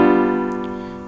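A single sustained dominant seventh chord rings out as one steady, fading block of tone, with a faint tick partway through and no talk.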